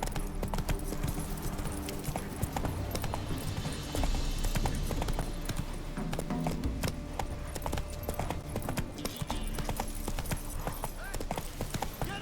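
Roach, the horse in The Witcher 3 video game, gallops with steady, fast hoofbeats that clip-clop continuously throughout, close and moderately loud over a busy game soundscape.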